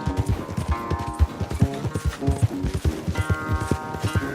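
A horse gallops in Red Dead Redemption 2 during a race, its hooves pounding in a fast, loud, steady rhythm close by, with game music and ambient sound underneath.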